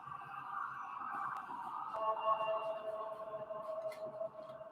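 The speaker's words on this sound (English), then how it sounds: "we have some sirens in the background already" Emergency vehicle sirens sound in the distance on a New York street on a Saturday night, a steady wailing tone that keeps on at low level through the whole stretch with no talk over it.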